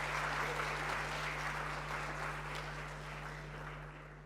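Room-filling applause from a panel discussion audience at a fintech conference, a dense steady clatter of clapping that slowly fades toward the end over a low electrical hum.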